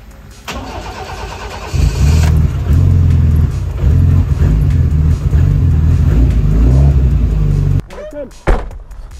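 A boosted Daihatsu Charmant starts up and its engine revs loudly and close, holding a strong steady roar for several seconds before cutting back, with a brief burst of noise near the end.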